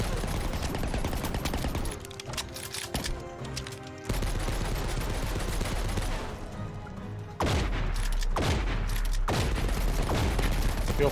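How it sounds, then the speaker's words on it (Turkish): Gunfire fills a military combat video game, with loud bursts and repeated heavy shots layered over constant battle noise, including pump shotgun blasts among the fire. "Şöyle bir pompala sıksak size."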